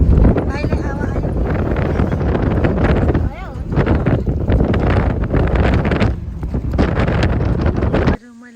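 Wind gusts through an open door, buffeting the microphone in heavy, rumbling blasts that rise and fall, with voices talking underneath before the rush cuts off at the end.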